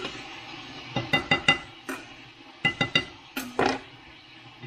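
Metal pots, pans and lids clank and clink in a series of sharp, close knocks, in two short bursts separated by a pause, while someone rummages through cookware in a home kitchen looking for a pan lid.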